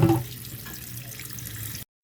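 Tap water runs steadily into a kitchen sink while a fish is rinsed for cooking, a close, even hiss that holds for almost two seconds and then cuts off abruptly.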